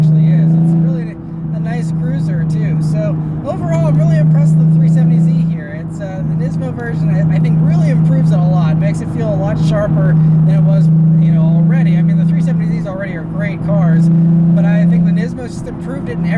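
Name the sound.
2016 Nissan 370Z NISMO manual cruising on the road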